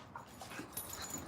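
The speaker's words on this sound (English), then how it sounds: "My dog's going at it right now." A dog whimpers and pants softly indoors, faint, brief whines over low background noise.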